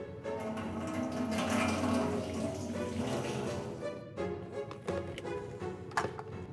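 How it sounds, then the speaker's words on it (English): Water is poured into a metal drum, a continuous splashing and trickling flow, fairly faint, with a few sharper clinks and splashes toward the end. "First, I'll put a little bit of water into this drum."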